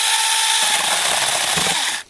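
A loud Assur cordless pruning saw with a reciprocating saw blade buzzes steadily through a tree branch at close range, then cuts out abruptly near the end.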